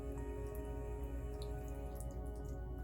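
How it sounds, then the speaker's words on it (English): Water trickles and drips steadily from a squeezed sponge in a quiet, close-up ASMR relaxation setting, a soft continuous wet wash with no voices. "And as I squeeze the sponge and you hear the water run"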